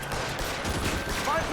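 Rapid burst of revolver gunfire in the video game L.A. Noire, a dense string of shots under game sound, with a short high tone near the end.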